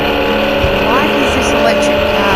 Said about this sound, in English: electric car has a petrol engine sound?